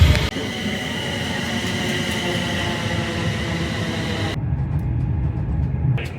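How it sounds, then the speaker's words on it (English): A train runs along the railway line toward Crewe, a steady rumbling rattle of wheels on track with a constant low drone, loud and continuous throughout and briefly quieter near the end. "The train and it's like travelling along the North Western Railway."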